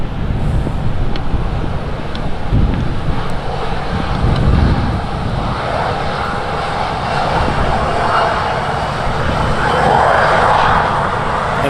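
A Jet2 jet airliner passes at Manchester Airport, its engines giving a loud, sustained roar that swells and holds throughout with wind noise.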